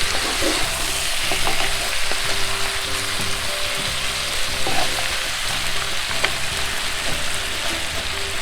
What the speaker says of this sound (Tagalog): May 1 kilong pork, pata. Gigisa natin to.